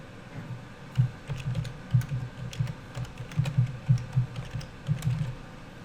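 A URL being typed on a computer keyboard: close, steady key presses in quick irregular bursts with small pauses, with no talking.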